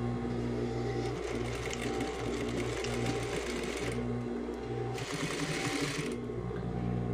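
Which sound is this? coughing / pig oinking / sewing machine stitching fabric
sewing machine stitching fabric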